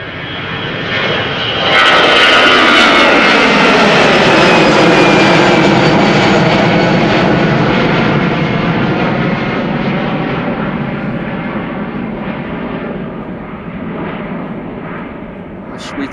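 An Aer Lingus Airbus A320 jet, nearly 20 years old, passes by at Schiphol Airport with a loud, steady roar that rises quickly, holds for several seconds and then slowly fades as the aircraft moves away.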